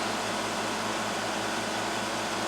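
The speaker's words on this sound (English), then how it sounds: "Just using the welder." Shop welder running while welding a Yamaha wheel, a steady close hiss and hum with a faint regular buzz, unbroken and alone with no talk.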